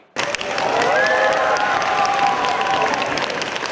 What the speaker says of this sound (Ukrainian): Так самі собі аплодують луцькі школярі